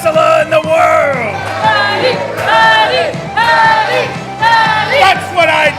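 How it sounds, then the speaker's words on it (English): A wrestling arena crowd cheers, whoops and yells in loud sustained waves, with rising shouts swelling and falling several times across the span. "He begins to soak in the crowd's approval."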